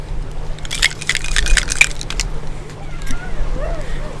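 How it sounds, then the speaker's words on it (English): Ice rattles in a cocktail shaker holding rum, coffee liqueur and cold milk, a loud burst of rapid clattering shakes in the first half that then fades, over a low steady hum. "We'll give that a shaky."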